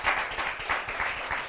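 A brief burst of clapping from a small group at a kart racing prize event, quick uneven hand claps lasting about a second and a half.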